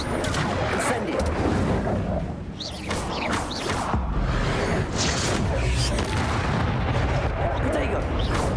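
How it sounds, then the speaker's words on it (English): Fire spells and other magic blasts cast in the video game Hogwarts Legacy, a dense, loud barrage of booming, crackling bursts filling the whole stretch with only a brief dip, and a voice calling out over the effects. "Incendio!"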